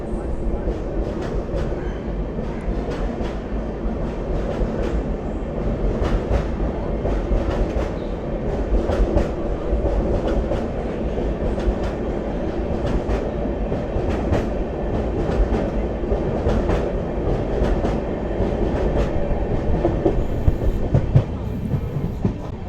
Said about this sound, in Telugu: మన ట్రైన్ సేలం దాటిపోయిందండి.